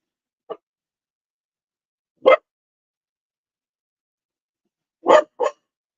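Dogs barking at a neighbor indoors, four short sharp barks spaced irregularly, the last two in quick succession, loud against near silence.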